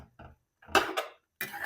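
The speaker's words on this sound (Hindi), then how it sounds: "अब मैं चम्मच चला के गोश्त को और चॉप किए हुए टमाटरों को आपस में अच्छी तरह से मिक्स कर लूंगी" Spoon stirring mutton and chopped tomatoes in a karahi, a few short metallic scrapes and clinks in quick uneven bursts with brief silences between, close and fairly faint.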